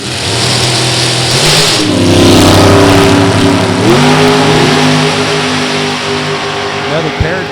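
A Super Comp drag race car roars down the strip at Beech Bend, its engine note loud and close, rising in pitch through gear changes as it accelerates.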